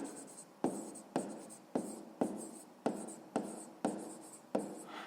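Pen strokes on paper while someone works through a sixth-grade maths exercise, a steady series of about eight short scratchy writing bursts, each with a sharp onset and a fading tail, close and quiet.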